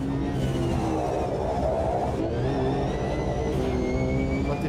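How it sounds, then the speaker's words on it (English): Loud, continuous engine whine of a race car in a Le Mans video game, rising in pitch as it accelerates and shifting gears, with no talking. "this car is quite slow on the straight, barely hitting 300."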